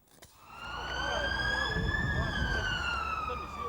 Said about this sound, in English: A siren signalling the arrival of another child with bullet wounds.